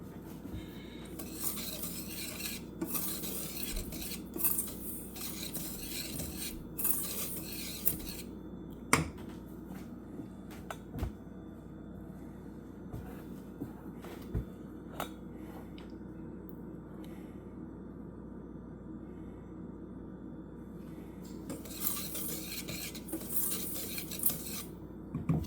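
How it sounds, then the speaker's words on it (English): Someone gently stirs caramel in a pan on the stove, making intermittent scrapes and light clinks of a utensil against the pan over a low steady cooking hiss, with pauses between strokes. "I'm gonna stir it gently."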